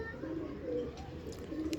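Pigeons cooing, a fancy flying breed: soft, low, rolling coos repeat close by through the whole stretch over a steady background murmur.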